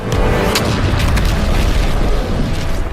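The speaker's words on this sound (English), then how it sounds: "then an explosion happens, knocking them around" A large animated explosion booms loud and sustained, with a dense rumbling roar and crackling debris throughout and no voices.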